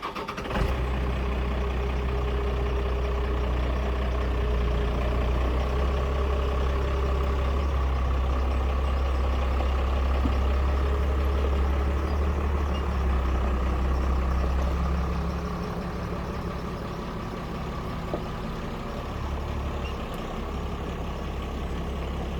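Large truck with a trailer idles steadily at a snow cat unloading, a loud, constant low diesel rumble that eases slightly toward the end, with no talking.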